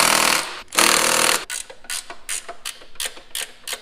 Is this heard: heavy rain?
no